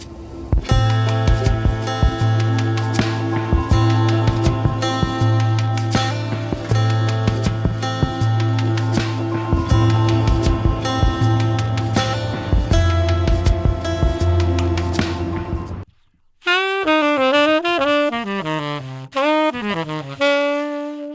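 Saxophone played into an Xvive U7 wireless microphone plays a melody over a rhythmic backing track, then after a short pause continues alone with expressive, close, loud phrases.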